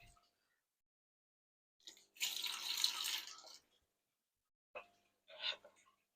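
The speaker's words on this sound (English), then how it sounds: "every couple of minutes I'm just going to be pouring a very small amount of water into each one" Small amounts of water are poured from a jug into fish quarantine containers, heard as a close, soft splash of about a second followed later by two shorter trickles, with silence between.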